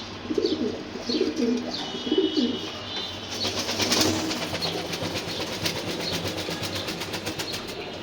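Racing pigeons kept as stock birds coo in low, rounded bursts during the first few seconds, then give way to steady rustling and rapid ticking nearby, with no one speaking.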